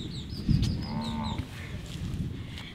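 A cow lets out a low moo close by on a farm amid steady rumbling background noise, with faint bird chirps over the top.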